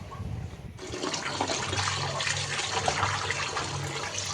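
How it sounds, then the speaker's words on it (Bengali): Water runs steadily from a kitchen tap while fish is rinsed under it, a continuous loud splashing rush after a brief pause near the start, with no talk. "মাছটা আমি ধুয়ে নিচ্ছি"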